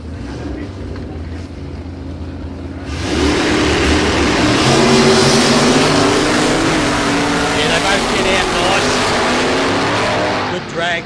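An altered Fiat Topolino drag car with a small block Chevrolet engine launches at a drag race, its loud engine roaring as it accelerates away, joined by other race engine noise and voices.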